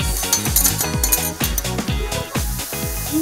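Chefs work metal utensils on an iron griddle plate, producing rapid, repeated clanks and scrapes in a busy, rhythmic clatter over a faint sizzle, with no talking.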